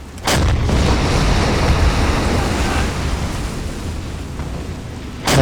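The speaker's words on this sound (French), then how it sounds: "On va essayer de tirer au canon." A submarine deck gun firing in the naval game Silent Hunter 5: two loud, booming shots, one at the start and one at the end, with a continuous roar of wind and ocean waves between them.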